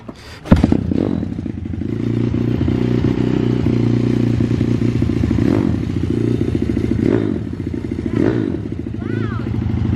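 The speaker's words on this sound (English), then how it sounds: "with 4 strokes, sometimes you have to push it down until it catches. It builds compression, and then go up a little bit more and then kick it." A four-stroke dirt bike is kick-started, with a loud thump and clatter followed by the engine catching and settling into a steady close idle, with occasional slight revving.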